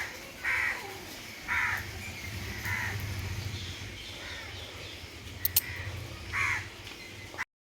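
Crows caw from a tree at sunset, several single harsh calls spaced a second or so apart, moderately near over a steady outdoor hum.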